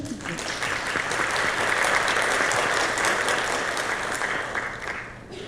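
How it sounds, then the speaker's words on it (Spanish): Auditorium audience at a design talk gives steady, full applause for a speaker, a dense even wash of clapping that holds for several seconds before easing slightly. "Les pido un aplauso para Elena"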